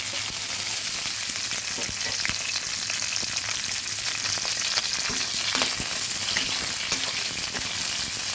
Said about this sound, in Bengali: পেঁয়াজটা ভালোভাবে ভেজে নিচ্ছি।